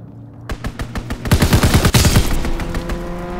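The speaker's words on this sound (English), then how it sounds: "Enemy strafing run incoming." An enemy aircraft's strafing run in Call of Duty WWII: a dense, loud burst of rapid machine-gun fire rattles in close, building into a sustained roaring volley that holds steady to the end.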